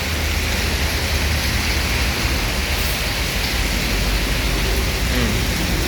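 Heavy rain pours down around a Rosalia Indah bus at the Palembang ticket station, a dense, constant hiss of falling water that is loud and unbroken from start to finish.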